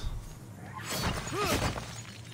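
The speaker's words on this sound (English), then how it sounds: "Smashing pots." Pots smashing in the video game Immortals Fenyx Rising: a sharp ceramic shatter with a crunchy burst of breaking, followed by a brief chiming pickup tone, over low game ambience.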